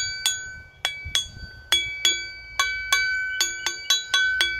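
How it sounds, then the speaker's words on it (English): A metal garden shovel is struck about a dozen times, each hit ringing out like a bell with two clear tones that decay slowly in a quiet space. "this garden shovel I had, all of a sudden it was making this beautiful music"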